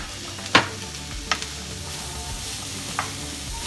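Carrots and potatoes for a vegetarian Cebuano empanada filling are stirred in a frying pan: a low background sizzle with a few distinct scraping strokes of the utensil.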